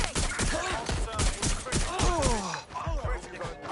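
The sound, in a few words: gunfire in a PS5 video game shootout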